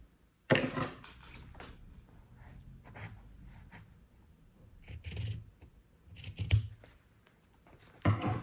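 Scissors slice through skirt fabric in a few separate bursts of snipping, close and fairly quiet, with pauses of near silence between the cuts.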